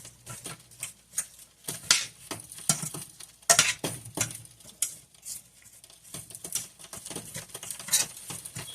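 Onions sautéing in a pan for a caramelized onion and potato bake, a soft crackling patter with intermittent stirring scrapes and utensil clinks, close and fairly quiet.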